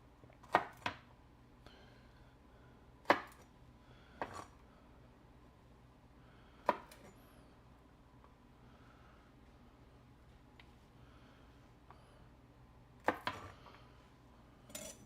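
A knife chops the ends off garlic cloves on a cutting board, a handful of sharp separate knocks spaced seconds apart, close and fairly quiet over faint kitchen room noise.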